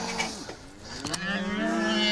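Cattle lowing on a South Australian station, a drawn-out moo rising and holding, fairly close, with a short rustle midway.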